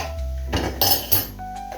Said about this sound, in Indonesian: sekarang waktunya kita aduk-aduk lagi biar rata.